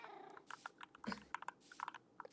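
A cat in the Minecraft video game makes several short, clipped sounds in quick succession, faint and set against quiet game background noise with no talking.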